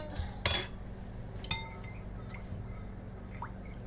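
A spoon clinks and scrapes against a container while stirring food-color dye for yarn, a couple of sharp metallic taps followed by faint stirring, close and quiet, no voices.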